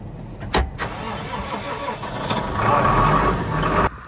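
A diesel truck engine is cranked after its glow plugs preheat; a sharp click, a brief starter churn, then the engine catches and settles into a rough, loud idle up close before cutting off abruptly.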